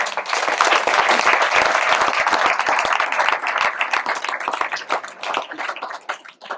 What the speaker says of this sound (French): Je pense qu'ils sont nombreux, nous pouvons les applaudir